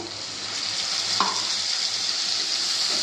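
Potato curry (aloo dum) frying in a pan on a gas flame as a small amount of water is added, giving a steady broad sizzle throughout with a brief sharper hiss of water hitting the hot pan near the middle, no talking.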